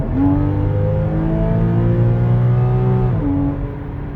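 A Porsche engine idles and revs up during an at-home intermediate service check, its loud, steady harmonic drone holding for about three seconds before the pitch drops back at the end.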